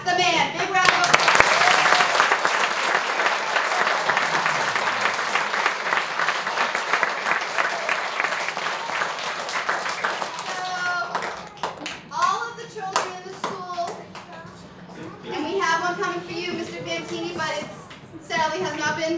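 A school audience of children and adults claps in a loud, dense round of applause that fills the first ten seconds, then thins into scattered claps while voices and children's chatter come through.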